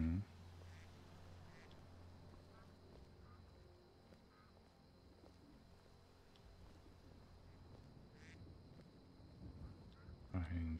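Ducks quack in the video game Skyrim, in the town of Falkreath, as soft scattered calls over a low ambient game drone, with a few louder sounds near the end.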